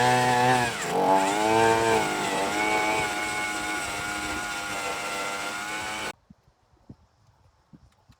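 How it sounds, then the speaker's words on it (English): Power drill boring holes through a board for a 2x4 corn crib playhouse frame, a loud sustained whining motor with shifting pitch for about six seconds, then stopping abruptly into quiet with faint knocks. "We're going to drill a hole over there, drill a hole over here."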